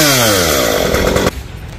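A chainsaw cuts through a Duong tree high in its crown, a loud close harmonic engine whine that shifts pitch as the chain bites, then drops sharply to a lower idle near the end.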